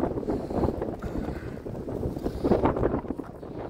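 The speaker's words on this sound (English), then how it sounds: "Wind." Wind buffets a microphone outdoors in a residential neighborhood, a steady low rumbling roar with gusts that swell louder midway, no talking over it.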